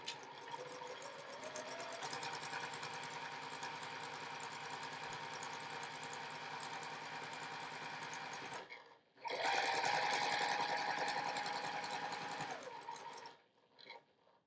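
A sewing machine stitches quilt fabric in a fast, steady mechanical rhythm. It pauses briefly, then runs again at a slightly brisker pace before stopping.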